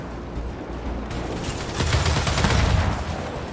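Dense bursts of video game gunfire in Gears 5 during an intense co-op firefight, rapid overlapping shots that grow heavier and louder midway, with no talking.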